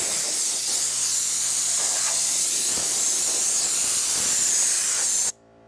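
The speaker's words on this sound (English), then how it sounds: "So I would blow it all out with compressed air." Compressed air blasts in a loud, continuous hiss to clean out a homemade water wheel's fins, then cuts off abruptly near the end.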